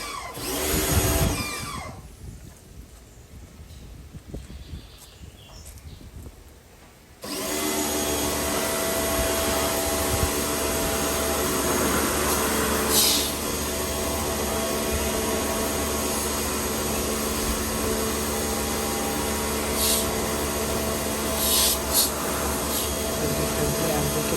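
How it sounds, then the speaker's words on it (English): Loud hissing water spray close by on an LG air conditioner condenser, easing off briefly before resuming as a continuous rushing spray over a steady mechanical hum. "Very careful when I'm spraying."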